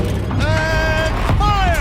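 Heavy mechanical turret turning in Horizon Zero Dawn, a steady creaking, grinding machine drone with rising and falling whining tones, sustained and close for the whole stretch.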